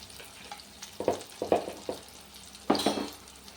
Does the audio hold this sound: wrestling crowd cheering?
no